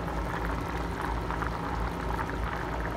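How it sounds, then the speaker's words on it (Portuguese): Rice cooks in a pot on the stove, a steady bubbling simmer with soft crackling and hissing throughout, close and even, with no voices. "O arroz já está cozinhando."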